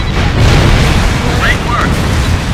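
Bombs burst in a dense, rumbling barrage during a ground strike raid in Ace Combat Infinity, a loud sustained boom that runs the whole moment, with a couple of short electronic blips on top.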